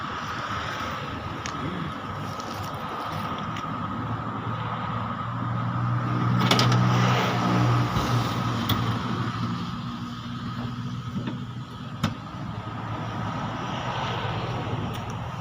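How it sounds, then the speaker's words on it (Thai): A car engine starts and then idles steadily close by, with a deep, even running hum and a brief swell partway through, heard alone without talk. "จะสตาร์ทเครื่องให้ฟังนะครับ"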